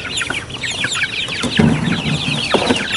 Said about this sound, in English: We have our chicken tractor, which is our meat chickens.